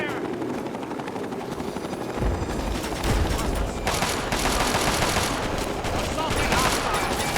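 Gunfire in the Fallout 3 Operation Anchorage add-on, dense rapid bursts and rattling shots over a heavy helicopter-like engine drone, loud and continuous throughout with a voice briefly calling out.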